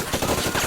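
A film action scene carries a short, loud burst of rapid automatic gunfire, with shots pattering quickly and closely together.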